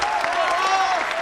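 Studio audience applause on an Italian television variety show, dense continuous clapping that fills the short moment, with a host's voice talking and calling out over it.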